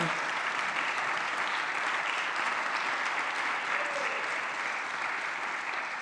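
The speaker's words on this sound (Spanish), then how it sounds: "Dale un aplauso grande a Él." A church congregation applauds in a long, steady wash of clapping that stays loud and dense throughout, with no break and no clear talking.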